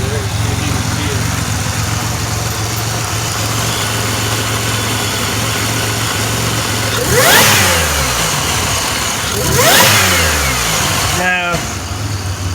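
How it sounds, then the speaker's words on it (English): A 2007 Pontiac Grand Prix GT engine idles steadily, then revs up twice in quick succession with rising and falling pitch, loud and close, with a short third blip near the end; people talk over the idle. "let me rev it while you're watching over there"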